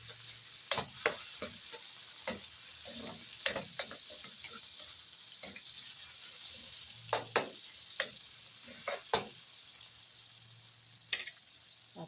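Garlic and tomato sauté in a pan with a quiet, low sizzle, broken by sharp irregular clicks and knocks from a utensil stirring against the pan.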